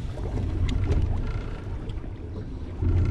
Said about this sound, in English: the wind just won't stop